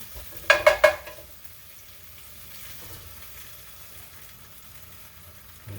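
Eggs poured into a pan over toasted pastry filling and frying, with a steady soft sizzle throughout, preceded by a few quick clinking taps near the start, close and fairly quiet.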